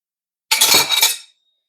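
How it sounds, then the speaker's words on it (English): A metal spatula scrapes Irish potato bread off a baking tray in one short, harsh scrape lasting under a second, close and alone. "I'm going to need a spatula to get that off there"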